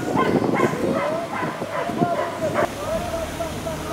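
Several hunting hounds bay and yelp in an excited, overlapping chorus at the opening of a hunt, fairly close, with a voice joining in and howling along.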